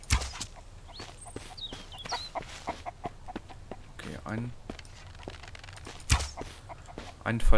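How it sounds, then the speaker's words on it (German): Chickens in the Mist Survival game, scattered short clucks and bird calls over sharp footsteps or thuds, with someone talking in German over them. "Hier laufen ein paar Hühner rum."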